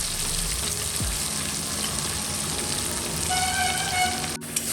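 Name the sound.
onion, cashew and green chili paste frying in oil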